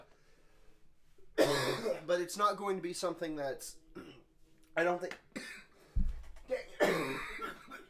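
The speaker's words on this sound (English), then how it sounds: "over there coughing up lung" Someone talks, then breaks into a few harsh coughs and throat clearing between phrases, close and loud.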